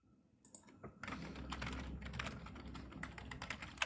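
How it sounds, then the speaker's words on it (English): Rapid typing on a computer keyboard, a dense stream of close, crisp key clicks that starts sparse and quickly builds into steady fast clatter, with no voices. "He wild on that keyboard."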